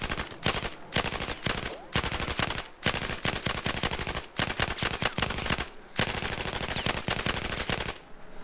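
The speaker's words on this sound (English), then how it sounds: "you fire off very few rounds, wait for it to reset, and fire off another few rounds" An assault rifle in Battlefield 4 fires in repeated short bursts of rapid shots, each burst separated by brief pauses, loud and close, with faint talk underneath.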